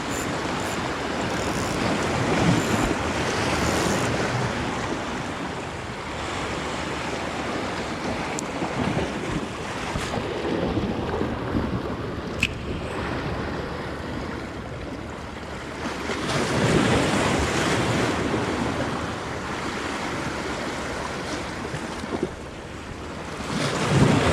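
Sea waves crash and surge steadily at a rocky shoreline during light-tackle fishing for barracuda and rockfish, with wind buffeting the microphone throughout and louder breaking swells rolling in periodically.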